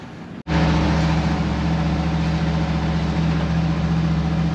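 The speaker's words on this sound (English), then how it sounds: "Oh, that feels weird driving on these like paver things." A 1977 Ford F150 truck rolls over paver stones, its engine a steady, loud low drone with a constant hum, after a brief dropout near the start; no voices.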